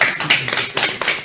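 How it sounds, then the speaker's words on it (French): An audience at a question-and-answer gathering in Gabon claps, a short burst of fairly loud, overlapping hand claps with uneven bursts and no talk. "Applaudissez pour vous-même."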